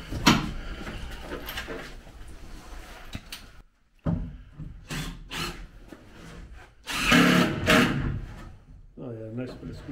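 A power drill drives fasteners into a wooden boat foredeck in several short, loud whirring bursts with brief pauses, along with close handling clatter and some talk.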